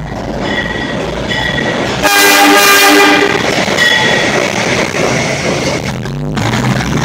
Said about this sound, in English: this is a heavy load work train about to pass 125th Street of the Downtown 6 line.